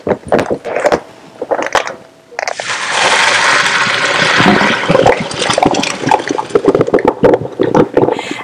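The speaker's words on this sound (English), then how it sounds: "I'm going to strain the water" Water from a big, wide-mouthed pot of rice, about three-quarters cooked, is strained off in a loud, continuous rushing pour. A few clanks and handling noises come first.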